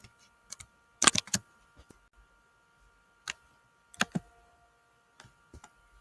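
Quiet, irregular keystrokes on a computer keyboard, a few quick bursts of clicks separated by pauses.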